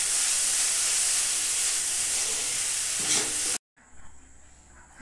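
Coconut filling being stirred in a pan while the sugar melts, a steady loud sizzling hiss for about three and a half seconds, then an abrupt cut to quieter room sound with faint clatter.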